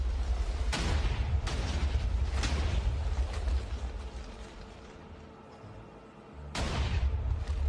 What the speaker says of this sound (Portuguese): É muita explosão, velho.